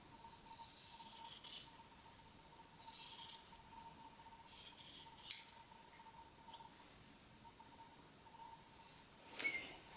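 Scissors trim the excess fabric from jelly roll strips for a sewn rug, with a series of crisp, close snips in short bursts separated by quiet pauses over a faint steady hum.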